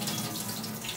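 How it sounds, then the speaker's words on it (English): Peanuts are washed under a running tap into a sink, giving a soft, steady rush and splash of water throughout the short moment, fairly quiet and with no talking. "You need to wash the peanuts."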